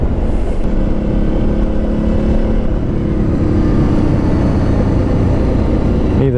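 An adventure motorcycle ridden at speed, its engine droning and shifting pitch steadily under heavy wind rush, loud and close throughout with no talk.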